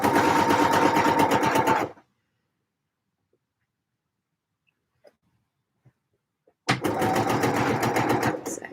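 A domestic sewing machine stitches fabric around curved seams in two loud, steady bursts of rapid mechanical chatter, separated by a long quiet gap with a few faint clicks.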